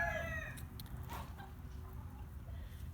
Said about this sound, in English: So I've got 4 of these White Crested Polish roosters here.